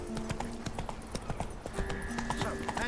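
Horse hooves trot in the Witcher 3 video game, a brisk, steady clip-clop rhythm close by, with a faint voice and game ambience underneath.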